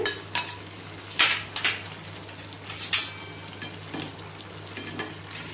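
Onion and tomato paste being mixed in a pan for a chicken gravy, with a metal spoon scraping and clinking against the pan in irregular bursts over a faint sizzle and low hum.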